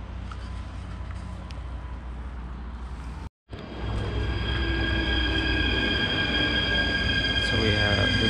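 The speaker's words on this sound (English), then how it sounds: "this is the train under the platform" A train idles at a station platform in the Netherlands, on a rainy day, with steady low rumble and high whining tones, broken by a brief gap, then louder mechanical hum and faint squeals.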